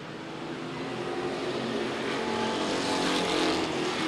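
Street stock race cars roar past at a short-track feature race, a steady, loud blend of engines with a slight swell toward the end and no talking.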